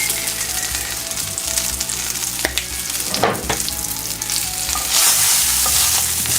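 Carne asada steak sizzling steadily in a hot pan with salt and garlic powder, stirred and scraped around in bursts, the frying loud and close with no talk.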